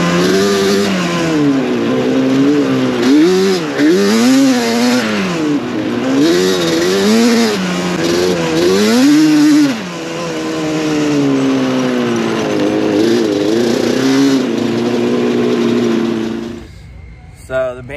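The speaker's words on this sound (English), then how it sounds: "Banshee is running really good" A Yamaha Banshee 421 ATV engine riding sandy trails, loud and close, revving up and down continuously with rising and falling pitch throughout before cutting off near the end.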